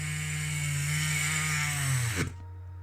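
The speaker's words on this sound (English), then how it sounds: "I've just got some new wire brushes from China, and I don't know whether they're just quite heavy and yeah, make a right old racket for this Dremel" A Dremel rotary tool fitted with a heavy new wire brush whines loudly and steadily at high speed on a Matchbox car transporter restoration, then abruptly winds down and stops near the end.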